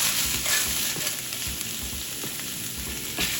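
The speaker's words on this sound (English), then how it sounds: "And let's just get that pasta mixed in." Pasta being stirred into ground beef sizzling steadily in a skillet for homemade hamburger helper, a constant frying hiss with repeated soft scraping strokes of the spoon underneath.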